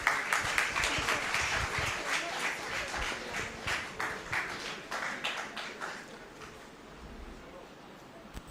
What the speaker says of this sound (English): Everyone, please give a big round of applause.